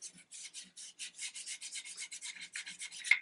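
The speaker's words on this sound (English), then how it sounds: "sanding my tip with the pad" A sanding pad rubs back and forth over a wooden gun stock in quick, even rasping strokes, about a dozen short scrapes in a row, close and fairly quiet, with no voices.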